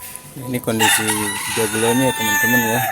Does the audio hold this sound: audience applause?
no